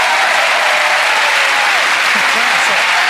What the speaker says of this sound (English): A nice round of applause for Penn and Teller.